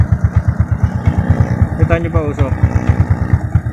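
A motorcycle engine, freshly top-overhauled with a new block, piston rings and valve seals but still smoking from the exhaust, idles loudly up close in a steady, even thumping rhythm while someone talks over it.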